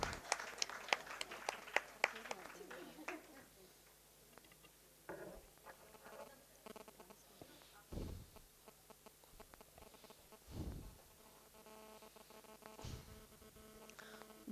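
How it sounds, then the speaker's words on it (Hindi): Faint, scattered applause from an audience at a silver jubilee and award ceremony held by a Marwari women's committee in Kolkata. A few sharp claps come at the start, followed by sparse clapping in a quiet hall. "अगर तालियों में कमी ना रखें।"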